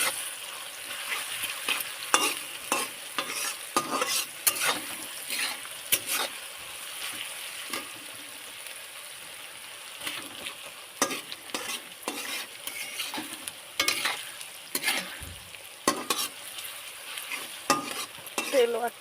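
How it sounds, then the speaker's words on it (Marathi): Onion and green chili fry in oil with curry leaves, a steady close crackling sizzle broken by frequent scraping stirs of a spoon through the pan, with no talking. "इथे कांदा आणि मिरची टाकून घेतले मी तेलामध्ये"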